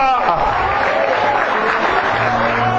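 Church congregation applauds during worship, a full burst of clapping mixed with voices calling out.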